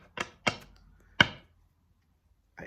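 Tarot cards shuffled in a quiet room, heard as three sharp riffling bursts in quick succession, then a pause and a final brief rustle at the end.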